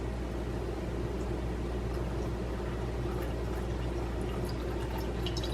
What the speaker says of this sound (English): And you pour it in over the grounds.